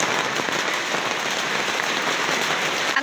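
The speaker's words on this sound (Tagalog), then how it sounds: "Ang ulan po is galing sa bukid." Rain sweeps in from the fields as a dense, steady hiss of drops striking surfaces, loud and unbroken, with no voices.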